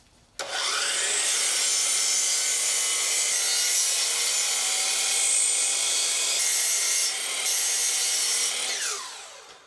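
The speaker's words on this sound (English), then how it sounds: "I'm just going to chop up some 1x3, 1x4, something like that, white pine to go around it" White pine boards, 1x3 and 1x4 stock for a small entryway table border, being cut with a power saw that runs loud and steady for about nine seconds, spinning up at the start and winding down at the end.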